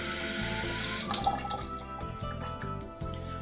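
Water running from a tap to wet the end of a hose during a BHL 4200 installation, a trickling splash that stops after about a second, followed by faint drips and small handling sounds.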